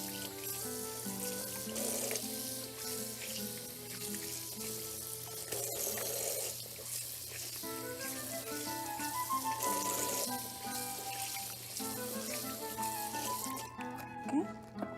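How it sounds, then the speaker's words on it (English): Cold tap water runs steadily over tripe being washed in a kitchen sink, a continuous splashing rush heard beneath background music throughout. "Make sure you wash them with cold water because we don't want to pre-cook the tripe."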